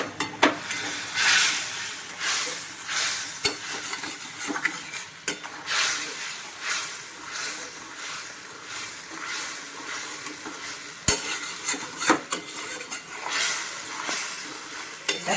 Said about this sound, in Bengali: তেলের সাথে ভালো করে কষিয়ে নিচ্ছি